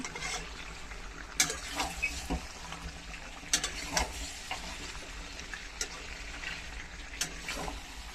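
Chicken kosha frying in a pan gives a steady low sizzle, broken by occasional sharp spoon taps and scrapes as it is stirred, close by with no talking.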